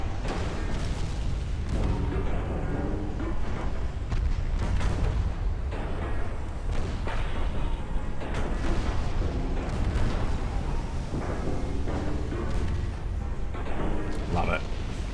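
Torpedo hits blowing apart a cruiser in a naval strategy game, a dense run of deep booms and rumbling blasts that goes on for about fifteen seconds beneath someone talking.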